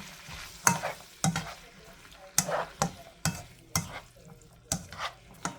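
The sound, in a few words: stirring ground beef and pinto beans in a pan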